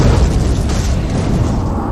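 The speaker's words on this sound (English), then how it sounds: "The asteroid smashes into the coast of what is now the Yucatan Peninsula in Mexico" A massive asteroid slams into the coast of the Yucatan Peninsula in Mexico, a loud, deep rumbling boom that rolls on steadily for about two seconds with no voices.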